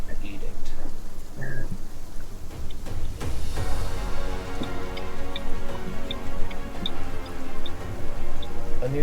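Steady rain with a low rumble of thunder swelling midway, evoking a storm brewing over a harbor bay by the dock ports; continuous wash with faint ticking drops, no speech.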